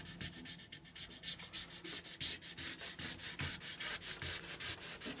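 Acrylic sheet is roughed up by hand between two strips of tape for glue adhesion, a quick steady rhythm of close, raspy rubbing strokes, about five per second, with no talk.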